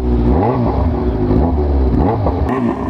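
A motorcycle engine catches and revs close by, rising and falling in several loud throttle swells over a continuous running note.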